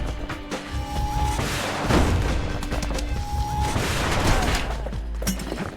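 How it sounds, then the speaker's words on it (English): Cannon fire in the video game Bastion: repeated heavy booms and crashing bursts, close and loud, over a steady bed of game music with sustained tones. "That cannon is knocking the shit out of them."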